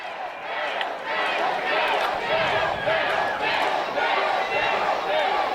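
A large arena crowd at a professional wrestling event roars and cheers continuously, a dense wash of voices with rhythmic swells, while a commentator talks over it.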